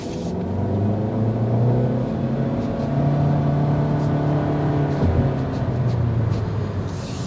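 A 2024 Honda Civic Hatchback on a test drive, its engine giving a steady moderate hum and road rumble from inside the cabin, with a brief dip in pitch partway through and no talk.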